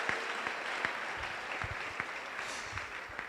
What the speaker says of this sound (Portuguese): De novo, uma salva de palmas.